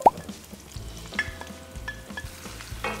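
Onions sautéing in a pan of oil with garlic browned beforehand for pork menudo, a steady close sizzle broken by repeated stirring scrapes and small clinks of the utensil against the pan.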